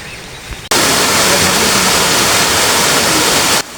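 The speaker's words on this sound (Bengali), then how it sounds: "এই সেই ঝর্ণা যেটা দেখার জন্য আমরা এতদিন কষ্ট করে এখানে আসছি" A waterfall in Bandarban, Bangladesh, reached after a multi-day trek, roars as a loud, dense, unbroken rush of falling water that cuts in abruptly and stops just as suddenly.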